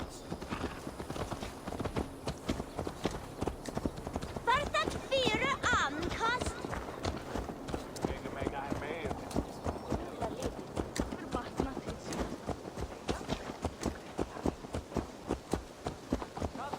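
A horse's hooves clip-clop steadily in Assassin's Creed Valhalla, a continuous run of sharp strikes under game speech and other sounds, with a brief whinny-like tone partway through.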